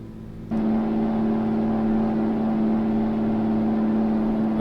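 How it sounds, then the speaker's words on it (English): Kenworth K100E truck engine brake in American Truck Simulator kicking in abruptly, then holding a loud, steady droning roar with a strong low hum, no talking. "That very noisy engine brake has to try and keep the speed at 50."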